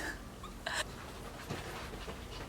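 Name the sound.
dog panting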